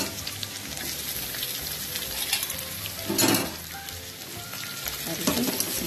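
Onions frying in a pan give a dense, continuous sizzle at close range, with louder crackling bursts midway and again near the end as they are stirred.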